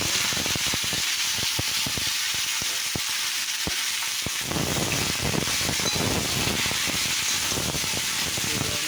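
Diced ridge gourd and potato hit hot oil with panch phoron, giving a loud, steady sizzle and frying hiss with clattering stirs. The clip holds no speech.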